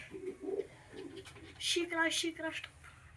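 Soft, close pigeon coos in short repeated bursts, with faint rustling and quiet surroundings.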